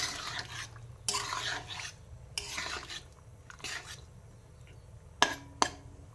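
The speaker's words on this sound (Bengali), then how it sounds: "এবার আমি নাড়িয়ে চাড়িয়ে একটু মিশিয়ে নেব।" Bagana stalks being stirred into potato curry in a pan, with scraping and clattering bursts coming in irregular waves, plus a couple of sharp clinks near the end, close and moderately loud over a low simmer.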